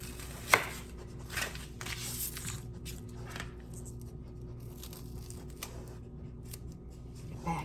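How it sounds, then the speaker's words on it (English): A knife chops an onion on a board in a home kitchen, a few scattered crisp cuts with one sharp knock near the start, fairly faint against a low steady hum. "I'm going to chop up an onion that I have."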